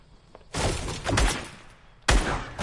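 Video game gunfire comes in two loud, dense bursts of rapid shots, with a brief quieter gap between them, close and harsh throughout.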